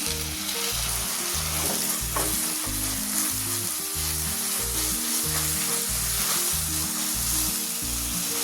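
Chopped, peeled tomato sizzles loudly in hot oil for a Kerala-style squid roast, a constant close frying hiss with occasional stirs and steady background music underneath.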